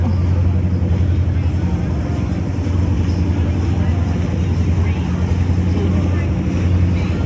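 The Pirate Water Taxi boat travels on the Tampa river in Florida with a loud, steady low engine drone and churning water wash, and faint voices mix in underneath.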